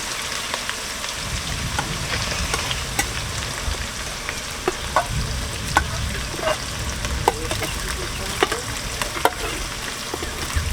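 Garlic, dried chili paste and cumin paste fry in a pan for a homemade chicken stew. A soft, steady sizzle is punctuated by scattered crackles and pops, moderately quiet, with no talking.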